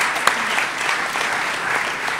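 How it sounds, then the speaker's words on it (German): An audience gives a sustained, even round of applause, dense clapping heard on its own without voices. "Also erstmal einen Applaus für euch nochmal."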